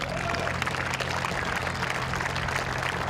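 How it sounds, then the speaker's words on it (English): Players at a Las Vegas event give a round of applause before a military color guard ceremony. The dense, even clapping is fairly faint and distant and holds steady for the whole stretch. "Give yourselves a round of applause."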